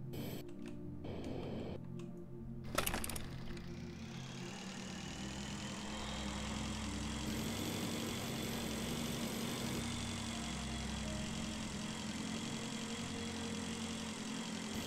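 A motorbike engine idling in the space survival game Breathedge, a steady low mechanical rumble with a faint hum, continuous and even after a brief click and clatter at the start.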